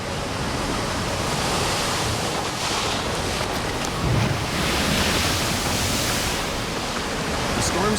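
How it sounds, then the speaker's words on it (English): Hurricane storm surge as a wall of ocean water driven inland by hurricane winds: a loud, continuous roaring wash of surf and wind, steady and broadband throughout with a slight swell near the middle. "Oh, here comes the ocean. Literally a wall of water, driven inland by an 800-kilometer wide wind machine."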